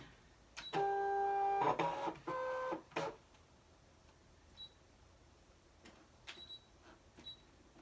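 A craft cutting machine scans a sheet, giving loud sustained mechanical whirs and tonal motor whines in bursts near the start, then falling to quiet clicks and faint beeps.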